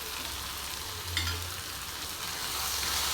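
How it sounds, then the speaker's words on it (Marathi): Garam masala, turmeric and chili being stirred into roasted aubergine for Indian baingan bharta, with a steady broadband sizzle and low scraping of the spoon throughout, close and even, with no talking. "व्यवस्थित मिक्स करायचं."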